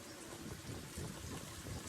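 Heavy monsoon rain pours steadily onto waterlogged farm fields, a faint, dense, continuous hiss with a low rumble beneath and no voices.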